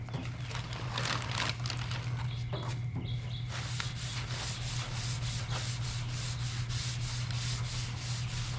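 A car body panel is sanded by hand with 320-grit sandpaper in a crisscross pattern, a steady close rubbing rasp that runs continuously, with a few brief knocks early on.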